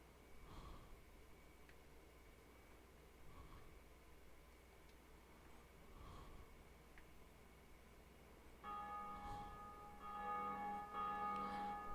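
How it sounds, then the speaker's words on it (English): A bell in the video game Dark Souls tolls faintly several times at a slow, even interval, distant under a quiet ambient hum, followed by brighter sustained tones near the end. "So as you can hear, there may be a bell up here."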